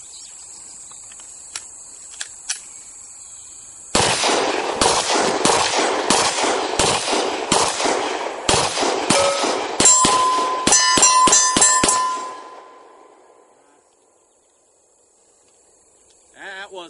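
Rapid pistol shots from a Glock 22 ringing off an AR-500 steel target at 50 yards, a burst of about a dozen sharp cracks with metallic pings, then quiet outdoors with insects in the background.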